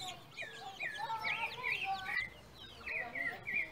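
Farm chickens cluck and chirp in short, repeated calls at close range over a soft background hum, with brief gaps between bursts.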